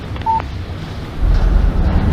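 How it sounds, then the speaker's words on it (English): A short electronic tone marks an incoming text message on a phone in Alan Wake Remastered, one clear beep over a low rumbling game ambience. "What did I tell you? Text message from Barry."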